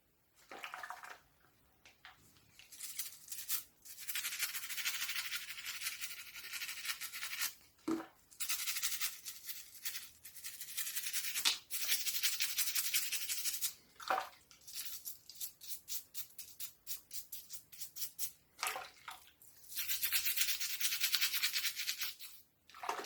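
A vintage Kenner Star Wars biker scout action figure gets scrubbed with an old toothbrush in a kitchen sink: close, bristly brushing in repeated bursts separated by brief pauses, with faint water sounds and no talking.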